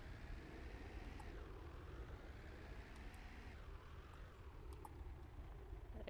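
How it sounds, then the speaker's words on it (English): A distant propeller airplane drones overhead in the game Contractville, a faint continuous engine hum with slowly shifting pitch and a few small clicks. "I can hear the airplanes."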